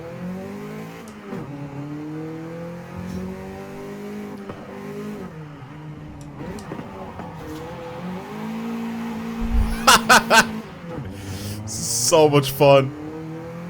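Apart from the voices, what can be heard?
car power-sliding into corners in video game Forza Horizon 5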